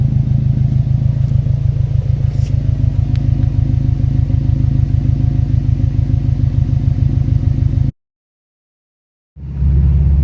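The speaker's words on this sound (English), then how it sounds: "So just test driving it right now, guys." A car engine idles and runs during a test drive after a loose battery terminal was fixed, giving a loud, close, steady rhythmic rumble. It cuts out abruptly near the end, and after a brief gap the rumble returns.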